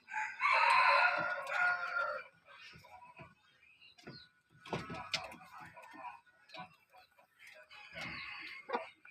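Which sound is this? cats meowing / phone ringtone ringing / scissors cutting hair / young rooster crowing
young rooster crowing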